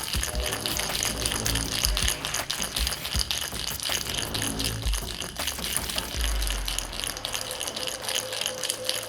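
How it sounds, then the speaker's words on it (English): A cocktail shaker filled with ice is shaken continuously for a whiskey sour, giving a steady, dense rattling and churning that runs loud and unbroken through the whole stretch with no talk. "Fill the cocktail shaker with ice. Shake the cocktail for 30 seconds."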